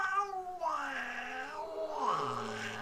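A cat meows as a sound effect in a dramatised audiobook: two long, wavering yowls, the second sliding downward, loud and close with no speech over them.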